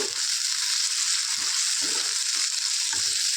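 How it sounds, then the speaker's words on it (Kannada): Tomato pieces sizzle and fry steadily in a pan with ginger and garlic, a continuous close hiss broken by a few soft stirring scrapes. "ಟೊಮೆಟೊ ಸಾಫ್ಟ್ ಆಗೋವರೆಗೂ ಚೆನ್ನಾಗಿ ಫ್ರೈ ಮಾಡ್ಕೋಬೇಕು"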